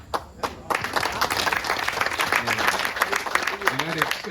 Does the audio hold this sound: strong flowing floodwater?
no